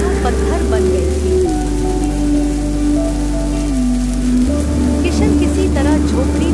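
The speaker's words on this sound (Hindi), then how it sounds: "तेज हवाएं चली, बारिश की बूंदें मानो पत्थर बन गई थी।" Heavy rain driven by strong winds pours in a dense, constant roar, loud and unbroken beneath a steady musical drone.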